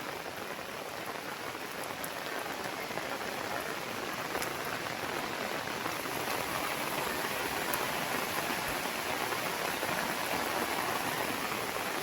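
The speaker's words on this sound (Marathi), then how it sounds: "पुन्हा आला पाऊस आता." Steady rain pours down outdoors near a bridge where water is collecting, a dense, even hiss of drops on surfaces that keeps going without a break and with no voices over it.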